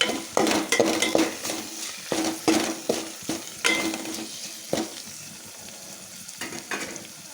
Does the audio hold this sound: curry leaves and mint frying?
yes